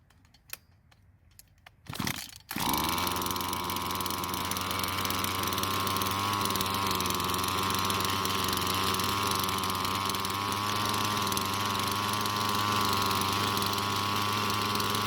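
A Husqvarna edger with a metal blade, just repaired, catches after a few quiet clicks and a brief pull, then its small engine runs at a steady, loud, close-up drone with a constant hum to the end.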